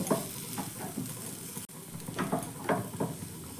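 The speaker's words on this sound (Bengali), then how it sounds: "এইভাবে আলুটা দেওয়ার পর ভালো করে মশলার সঙ্গে একটু মিশিয়ে নেব" Grated boiled potato stirred into spices in a hot pan, giving a steady low sizzle with soft scraping strokes of a spoon at an uneven pace, close by.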